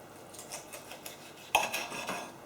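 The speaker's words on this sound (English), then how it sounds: "cut a little slice there so you can see what's inside first" A knife cuts a slice from a chicken and bacon wrap with garlic cream cheese filling, giving soft scraping strokes followed by a sharper clink of metal against a plate and a few quieter rasps afterward.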